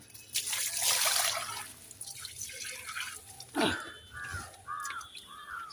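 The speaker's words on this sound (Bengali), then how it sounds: "গাছের গোড়াতে আবার জল জমে আছে জলটা আমি ফেলে দিই" Water pours out from the base of a newly planted potted plant in a brief splashing gush, then thins to faint drips and trickles, with a few bird-like chirps afterward.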